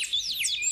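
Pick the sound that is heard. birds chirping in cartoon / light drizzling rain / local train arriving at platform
birds chirping in cartoon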